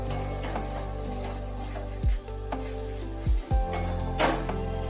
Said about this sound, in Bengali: ধনেপাতাগুলো দিয়ে একটু ভালোভাবে নাড়িয়ে নিতে হবে।